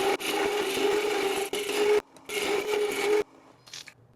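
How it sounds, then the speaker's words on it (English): A carbide-tipped tool carves a spinning wooden ferro rod handle on a lathe, giving a raspy scraping in two sustained passes broken by short pauses, then a quieter tail. "This is a little carbide tip. Start to carve out the shape that I want."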